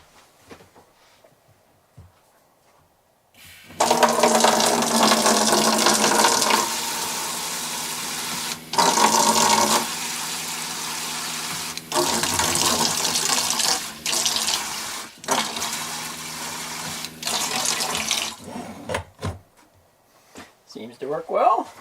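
Water gushes from a stainless steel LCI Flow Max RV faucet into a new sink in several bursts, with splashing and the stream cutting on and off as the tap is switched.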